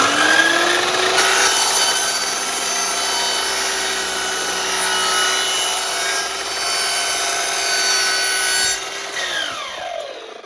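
A steel door panel is cut with a power saw, a loud continuous whining drone with steady rubbing grit that holds for several seconds and then winds down at the end, with no voices.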